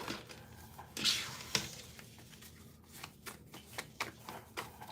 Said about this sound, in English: You see me shuffle the deck in front of you, in the open.